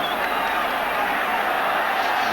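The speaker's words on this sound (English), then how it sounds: "I think the warm applause there was fully deserved" A stadium crowd applauds at an Argentina versus Italy football friendly in 1987, a broad, steady wash of distant clapping and crowd noise, even in level from start to finish.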